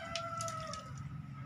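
Chickens on a small backyard chicken farm with simple handmade coops, clucking and calling in short bursts over a steady low background murmur, fairly close by.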